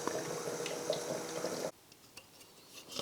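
Water gurgles and trickles inside a KOZ-E CoolSleep mattress cooler, a busy liquid splashing that cuts off abruptly partway through, leaving a quiet hum with a few faint drips.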